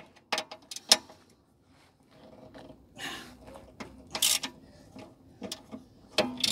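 Socket wrench at work on the steering rack of a BMW 530d E60: sparse, faint metallic clicks and ratchet ticks with scattered clanks and quiet gaps, no speech.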